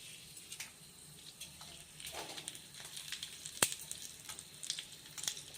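Dry red chillies sizzle and crackle in hot oil for a tempering while curd poha is made, a steady frying hiss with scattered sharp pops, one louder crack midway, close and alone.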